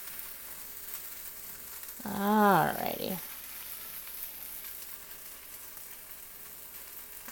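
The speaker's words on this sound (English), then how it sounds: "you can hear it all sizzle" Brown rice fries in a pan with a soft, continuous sizzling hiss in the background, while a person briefly speaks over it partway through.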